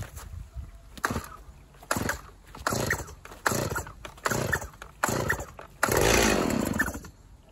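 A Stihl MS290 chainsaw is pull-started in a series of about seven short sputtering bursts, each rising and fading, before catching into a longer, louder run at the end, close up with no speech.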